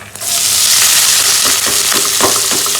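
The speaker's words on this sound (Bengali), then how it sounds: "জিরে ফোড়ন দিলাম সাদা জিরে" White cumin seeds temper in hot oil for a home-style green-bean dish, crackling and sizzling loudly and steadily close by, with a few sharper pops scattered through.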